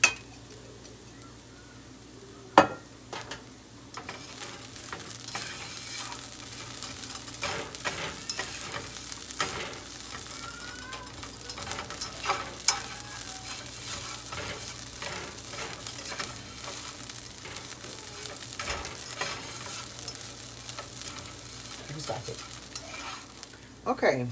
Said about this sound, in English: It took about 4 to 5 minutes to that rice to start to brown up.